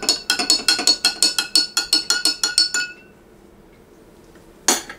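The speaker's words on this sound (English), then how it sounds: "And I'll give it a little bit of a stir here." A spoon stirs eggnog in a glass, clinking crisply against the sides in a quick, even run of about a dozen taps. A short quiet follows, then one last bright clink.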